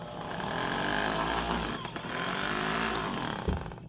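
A Makita 5-inch variable speed random orbit DA finish sander runs with a steady, fairly quiet whir that holds close throughout with little change, with a brief knock near the end.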